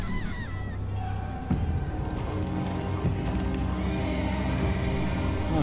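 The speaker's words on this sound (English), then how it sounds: "Oh god, the horses." Horses in The Walking Dead: A New Frontier video game whinny loudly near the start, followed by overlapping neighs and clattering hooves amid a busy, noisy scene.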